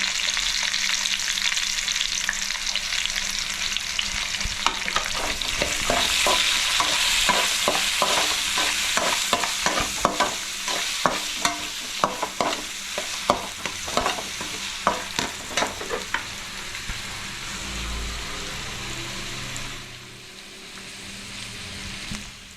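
Garlic and ginger fry in a pan for palak chicken, giving a steady loud sizzle with a run of rhythmic scraping stir strokes that fade toward the end.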